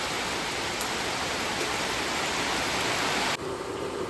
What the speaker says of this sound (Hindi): बाहर बारिश जो है ना इतनी हो रही है ना कि पूछो ही मत